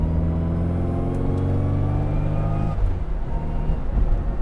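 Mk 3 Mini Cooper S with a straight-cut gearbox, its steady gear whine riding over a loud, continuous engine drone that shifts in pitch near the end, close and unbroken throughout.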